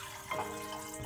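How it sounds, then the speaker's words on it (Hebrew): Water pours into a mixer bowl for doughnut dough, a short splashing, faucet-like stream that rises near the middle and stays soft and close, with no talking. "תחילה נמזוג לקערת המיקסר 250 מיליליטר מים"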